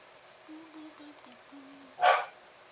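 A dog that wants to go out gives a few faint whines and whimpers, then one louder short bark, heard indoors at a distance.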